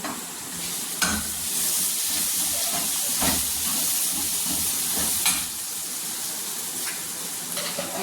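Aloo pakoda curry sizzles steadily in a hot pan while being roasted and stirred, a constant hiss broken by periodic scraping strokes and clanks of the spoon.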